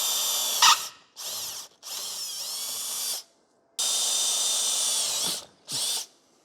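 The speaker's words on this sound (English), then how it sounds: "Mark these positions and drill the holes." Power drill boring holes with a 1/4 inch bit while building a plasma cutting table, several separate high whirring bursts of a second or two each, with short silent gaps between, close and alone.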